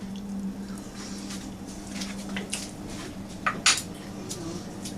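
Light metal spoon clinks and taps against a pot of homemade alfredo sauce during tasting, with a few small scattered clicks and one sharper clink near the end over a steady low kitchen hum.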